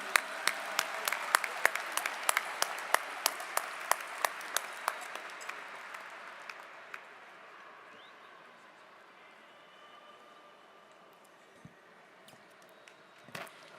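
Applause for Senator Chuck Schumer at the John Jay College 2018 commencement: scattered claps with a few sharp, distinct ones over steady crowd noise, thinning and fading to near quiet over the second half.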